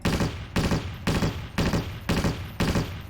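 Machine gun from the Half-Life 2 beta firing in six evenly spaced bursts, each a loud rattle of rapid shots with short gaps between, no voices over it.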